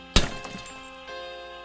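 A programmed brick-breaker video game sounds a sharp synthesized crash as the ball breaks a brick, a single loud hit that rings out with a tonal tail.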